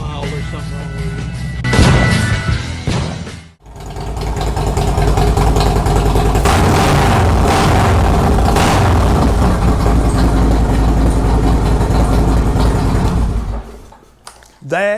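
A 2024 Harley-Davidson Road Glide fitted with Tab Performance mufflers rumbles and revs loudly, with a short blip, a brief cut, then a long deep, throaty run of exhaust noise that fades away at the end.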